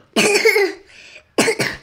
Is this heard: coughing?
yes